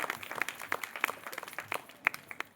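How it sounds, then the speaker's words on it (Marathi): Scattered, fairly faint clapping from an audience cheering a group at a Republic Day quiz event, with individual claps standing out irregularly rather than forming a dense roar. "जोरदार टाळ्या वाजवा त्यांच्यासाठी."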